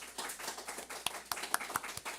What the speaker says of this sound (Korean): 우리 박수 한번 쳐드리겠습니다